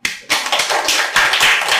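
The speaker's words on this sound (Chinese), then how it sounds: "我们来点掌声吧" Audience applause at a live Taiwanese cultural foundation talk show taping, starting abruptly after a brief pause and filling the room with dense, steady clapping from a nearby crowd.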